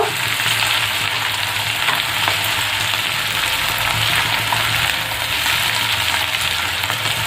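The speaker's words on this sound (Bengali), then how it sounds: "পেঁয়াজগুলোকে একটু হালকা ফ্রাই করে নিয়েছি। এরপর দিয়ে দেবো আদা রসুন কুচি। আবারও খুব সুন্দরভাবে মিশিয়ে নেব।" Chopped ginger and garlic fry with onions for chilli chicken, giving a continuous, even, close sizzle with soft stirring. No one talks.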